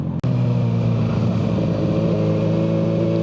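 A Kawasaki ZX6R sport motorcycle fitted with a Yoshimura full header exhaust drones steadily at a constant engine speed, loud and close, with brief wind rush around it.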